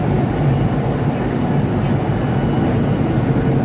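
Inside an airplane cabin in flight, a steady, even broadband drone of engine and air noise continues throughout, with no voices.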